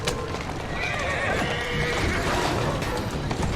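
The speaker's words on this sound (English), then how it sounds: "Who's a good horse?" A horse in the video game Assassin's Creed Syndicate whinnies loudly over steady clip-clopping hooves, with a dense, continuous game soundscape behind it.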